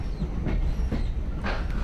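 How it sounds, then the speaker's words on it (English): A Strathspey Railway steam train pulls out of Aviemore station in Scotland, close and loud, its wheels and carriages rumbling with rhythmic clatter over the track. "We're now leaving Aviemore station on the original line to Inverness."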